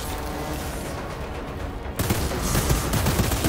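Rapid automatic gunfire in the shooter game Outriders: dense, crackling bursts run throughout, growing louder and fuller in the second half, with no voices.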